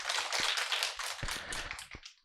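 A class audience claps at the opening of an introductory real estate brokerage law lecture at a Jongno academy in Seoul, a soft, fairly distant burst of many hands lasting about two seconds and tapering off.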